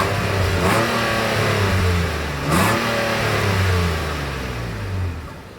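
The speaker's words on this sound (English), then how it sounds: "As always, here is that exhaust clip." A 2025 Nissan Pathfinder's exhaust revs loudly close by, rising in two sharp throttle blips over a steady idle drone, with no voices.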